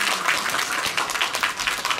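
An audience at a Korean global citizenship speech contest breaks into loud, continuous applause, dense clapping from many hands filling the room.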